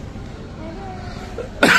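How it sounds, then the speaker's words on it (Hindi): A single sharp cough bursts out at the end after a quiet stretch of faint background noise, close and fairly loud. "थोड़ी खांसी हो गई"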